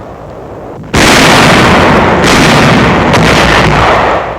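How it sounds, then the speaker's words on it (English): Heavy gunfire from a 1945 wartime newsreel aimed at enemy barges on the Rhine before Dusseldorf: a sudden loud blast leads into a sustained, dense roar of firing, with a second surge midway, then it fades slightly near the end. "Firing on enemy barges in the Rhine before Dusseldorf."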